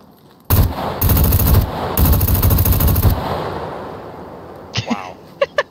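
An M249 light machine gun fires in the video game SCUM: three loud, dense sustained bursts over about three seconds, close and dominant, followed by a fading tail and a few faint sharp clicks.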